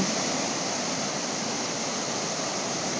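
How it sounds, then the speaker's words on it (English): Water near the shore gives a steady, even wash of surf-like noise, soft and continuous with no breaks or voices. "Hopefully, you're beginning to hear the sound of the water."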